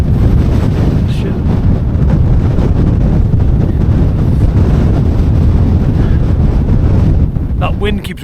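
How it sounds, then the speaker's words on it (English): Strong wind gusts across a hillside wild campsite in the Southern Uplands and batters the microphone. The buffeting roar is loud and constant, with a few faint knocks near the end. "That wind keeps whipping up every now and again."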